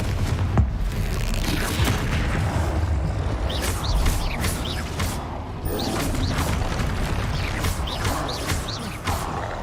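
A Confringo explosive spell fires in Hogwarts Legacy amid dense combat, with repeated booming blasts, whooshes and crashing impacts layered over a continuous loud battle din.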